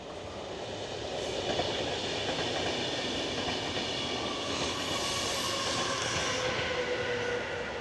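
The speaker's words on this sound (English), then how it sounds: "Hold on, another train." A train passes close by with a loud, steady rumble and rattle of rail cars that swells after the first second and holds throughout, with a faint wheel squeal and no talking.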